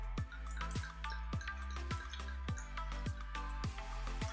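Electrolyte reduced water poured out, a steady liquid stream with a rapid, regular series of bright drip-like splashes running through the whole stretch, fairly close and continuous.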